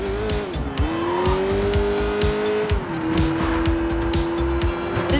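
Car engine in the Sleeping Dogs video game holds a steady, loud drone that dips and rises with gear changes, with brief tire squeals and driving noise running continuously throughout.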